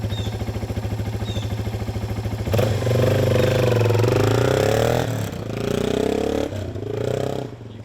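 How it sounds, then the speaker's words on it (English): A 2005 Yamaha XT225 motorcycle idles with a rapid, even single-cylinder thump, then revs and pulls away down a driveway, engine rising and falling as it moves off and fades slightly. "I'll do a drive-by so you can get an idea how it sounds going down the driveway a couple times."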